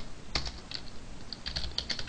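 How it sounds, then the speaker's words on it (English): Typing on a computer keyboard while writing Java code, a handful of light key clicks spaced unevenly, close and quiet. "Let me type it right."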